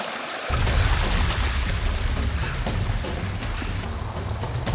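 Heavy rainwater, mixed with hail, rushes down a muddy hiking trail on Bisoke volcano, a dense, continuous roar of running water and downpour that starts abruptly and stays loud without any speech.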